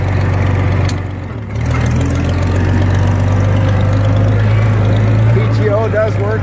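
A steady, loud low rumble comes from an IHC Farmall 460 tractor engine running at a constant idle close by, with no breaks in the drone.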